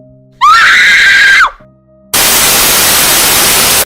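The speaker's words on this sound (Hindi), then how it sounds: "स्पीकर से एक तेज चीख निकली और वो अपने आप बंद हो गया" A loud, piercing scream bursts from a speaker as a horror story effect, wavering and sustained for about a second, then cuts off to a short silence before a harsh wall of static hiss floods in and holds.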